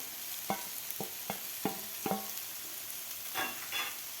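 Egg bhurji being stirred into frying masala in a pan, a soft sizzle underneath a series of distinct spoon scrapes and knocks, about seven strokes at irregular intervals, no speech.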